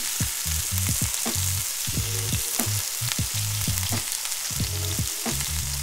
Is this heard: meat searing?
yes